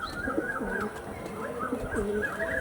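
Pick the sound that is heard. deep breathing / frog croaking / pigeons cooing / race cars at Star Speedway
pigeons cooing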